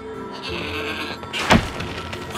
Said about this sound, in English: What an amazing goat!